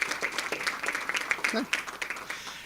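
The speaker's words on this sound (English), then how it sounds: "How about a big round of applause for all of our PTA president volunteers?" Audience at a board of education meeting applauds with brisk, moderately distant clapping spread across the room, while a voice briefly speaks over it.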